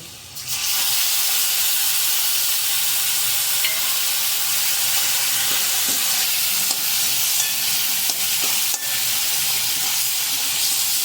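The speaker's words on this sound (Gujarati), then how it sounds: "હવે તેમાં જે ઝીણા સમારેલા બટેકા છે તે નાખી દેશું." Finely chopped potatoes frying in an oiled pan for a fasting dana khichdi, a loud continuous sizzle and hiss with occasional scraping stirs.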